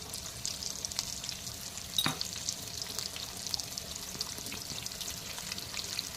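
Onions frying in oil with salt in a Rayalaseema-style ridge gourd curry, giving a steady close sizzle with a brief stir or clatter near two seconds; no talk.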